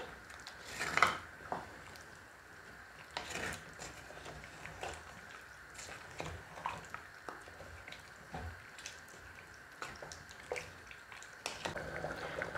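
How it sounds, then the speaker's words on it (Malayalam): Salted mutton curry gets stirred in a pot, giving faint, intermittent scraping and light clinks of a spoon against metal with quiet gaps between strokes. "എന്നിട്ടിത് നല്ലതുപോലെ ഒന്ന് ഇളക്കി കൊടുക്കാം"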